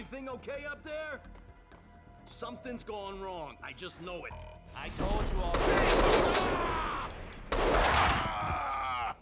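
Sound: gunfire in the video game Max Payne 2

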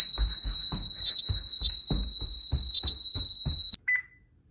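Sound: home security alarm beeping

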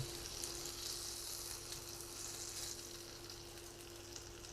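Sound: chicken frying in oil

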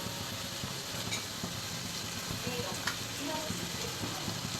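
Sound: ground shallot paste frying in pan for chicken biryani

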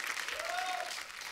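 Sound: audience applause for Sara

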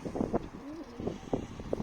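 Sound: pet bird cooing

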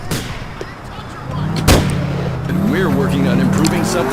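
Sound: gunfire in video game GTA IV

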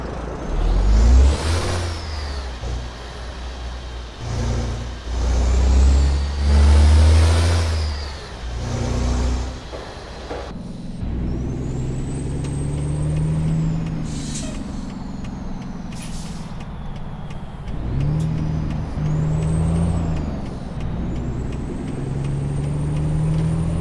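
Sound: Cat diesel truck engine in video game

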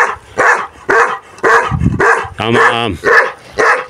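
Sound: dogs barking excitedly near a chain

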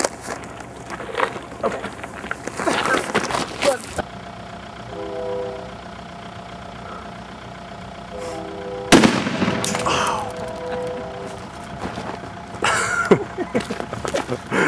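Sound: dry ice bomb exploding

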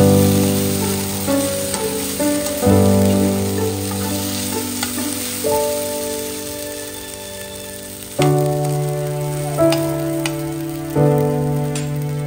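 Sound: potatoes frying with cumin and mustard seeds for aloo bhaja

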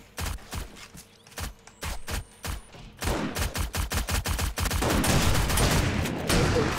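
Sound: gunfire in a video game

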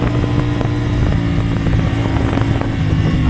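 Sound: CFmoto CLC450 motorcycle engine revving while riding

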